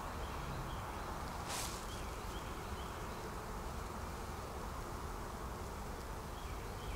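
Honey bees hum and buzz steadily inside a beehive as they draw out comb on frames beneath a Flow Hive super, a dense continuous drone close by with no talking.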